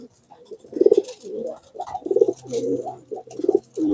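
Soft, throaty cooing from a high-flying pigeon repeats in short rhythmic phrases, several times in a row, fairly close with a quiet background.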